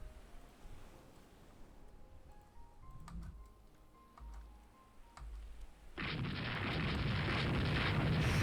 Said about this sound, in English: Shooting is happening.